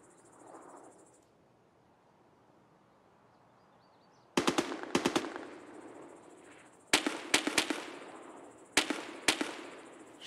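SVD sniper rifle shots in Escape From Tarkov, heard as several sharp, loud cracks in irregular bursts with echoing tails after a quiet stretch, no talking over them.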